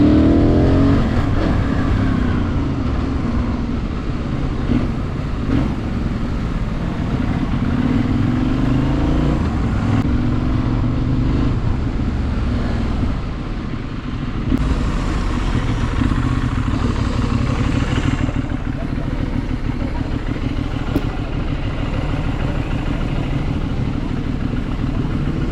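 A Benelli or Yamaha big bike engine runs and revs continuously for the whole stretch, a loud, close, throaty drone that swells and dips with the throttle.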